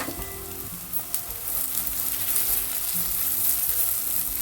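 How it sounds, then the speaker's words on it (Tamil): Onion and garlic sautéing in a clay pot, a steady close sizzle with faint stirring scrapes running unbroken throughout, no voices. "வெங்காயம் இவ்வளோ வதங்கிட்டு இந்த டைமில் இந்த வட்டி வச்சுருக்கிற உள்ளியையும் போட்டு வதக்க போகிறேன்."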